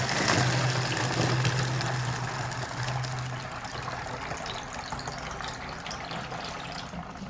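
Water poured into a bottle to dilute a fertilizer concentrate, a continuous filling trickle and splash that starts strong and gradually softens, heard close and alone with a low hum beneath it.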